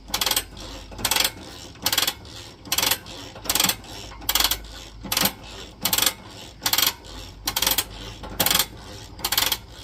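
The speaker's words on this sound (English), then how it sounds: "I hear ratcheting, but nothing's moving" A ratcheting mechanism on a camper being demolished clicks in a steady rhythm, sharp metallic bursts repeating about every half second, loud and close with faint background noise between.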